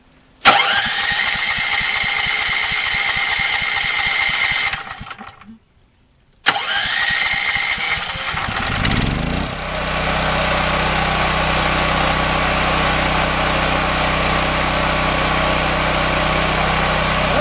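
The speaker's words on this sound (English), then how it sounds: "Put the key in the ignition, turn it on, and start it." A Smarter Tools GP7500DEB dual fuel generator, running on propane or gasoline, cranks with a loud electric starter, pauses, cranks again and catches, then settles into a steady, close, loud idling hum.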